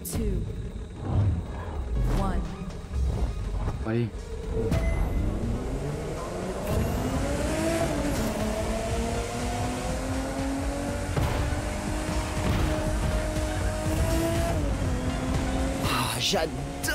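An old car in The Crew 2 racing game revs its engine, the pitch climbing and settling through sustained loud roars with a few sharp shifts, while someone speaks French over it.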